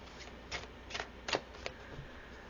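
Oracle cards being shuffled by hand in a quiet room, a few short papery riffles and slaps spaced across the moment, soft and close with no talking.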